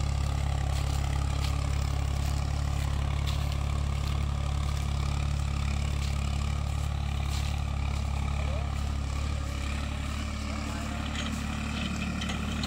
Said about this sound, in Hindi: आज हैरो लेकर आए थे सोनालिका 35 पर 2007 मॉडल। हाई के पहले में चल रहा है